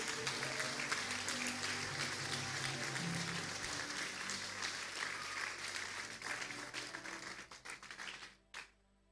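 A church congregation applauds loudly and continuously during a sermon, the clapping thinning out and fading near the end before a final brief burst.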